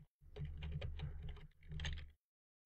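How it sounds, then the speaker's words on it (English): Rapid keystrokes on a computer keyboard, a quick uneven burst of clicky taps in two runs separated by a short pause, close and fairly quiet, with no voices. "So if I just type some random hexadecimal numbers and letters,"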